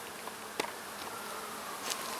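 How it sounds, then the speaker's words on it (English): A yellow jacket buzzes among honeybees at a healthy hive, a close, steady insect drone with a few brief louder passes, no talk. "I've been commenting about the yellow jackets, and there is one just getting riled up by these bees"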